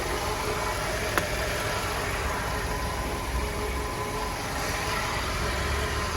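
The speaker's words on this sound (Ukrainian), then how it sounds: "Двигун працює рівненько" A used car's engine idling smoothly and evenly, a steady low hum with no knocks or rises, heard close and alone without any talk.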